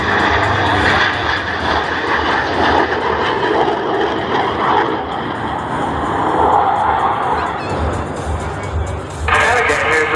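A Yak-110 aerobatic jet-assisted aircraft performs at the Pacific Airshow, its engines roaring loud and close throughout, swelling and fading as it passes, with voices talking over the noise.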